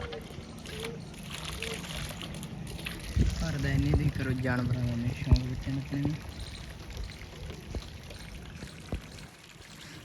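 Water pours and splashes steadily for several seconds into a pigeon bath while someone talks over it, with occasional knocks and bumps nearby.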